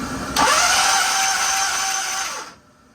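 Nitro drag racing engine being pumped over after a lean run and oil line failure, a steady whirring starter-driven drone that starts abruptly, holds for about two seconds, then winds down and stops.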